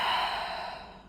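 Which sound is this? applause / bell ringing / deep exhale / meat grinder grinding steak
deep exhale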